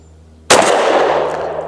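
A single sharp, loud pistol shot from a SIG 365 firing V-Crown 115 grain ammunition at a range, cracking out suddenly after near silence and trailing off in a short echoing decay.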